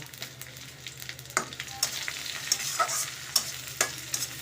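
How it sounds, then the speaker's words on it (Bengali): Chopped onion and panch phoron frying in oil: a close, continuous sizzle with repeated scraping and clinking from a spoon stirring the pan. "আর পেঁয়াজ কুচি দেব। একটু পাঁচফোড়ন দেব, পাঁচফোড়ন দিলাম, নাড়ব।"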